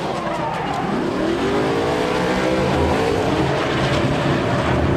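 A drift car accelerating through a drift competition run: a loud, sustained engine roar with rising and falling revs, heard close and continuous throughout.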